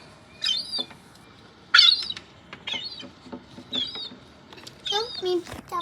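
Several birds squawk harshly and scuffle as they push each other off a perch, a sequence of loud raspy calls in bursts with brief gaps, close by and mostly without talk.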